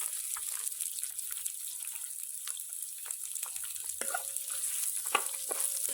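Chopped onions sizzle gently in a pan for an Easter chicken stew, a faint, even frying hiss with scattered light clicks and stirring sounds, close and without talk.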